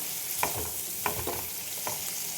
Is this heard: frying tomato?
yes